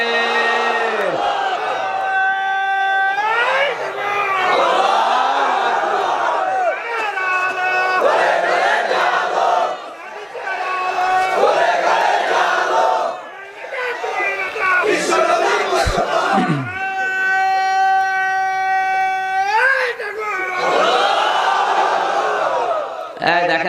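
A large crowd at an outdoor Islamic religious gathering answers the takbir call, with loud, repeated chanted responses rising and falling in waves alongside a leader's amplified voice, sustained and reverberant throughout.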